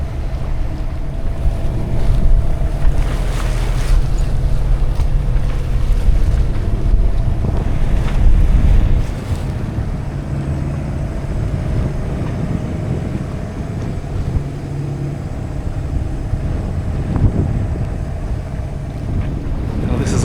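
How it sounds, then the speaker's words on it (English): Strong wind roars across the microphone on a sailboat under headsail near Naxos in stormy weather, with water rushing and waves along the hull; the gusting is loudest in the first half, then settles to a steadier rush. "we finally got enough wind to get the head sail back out"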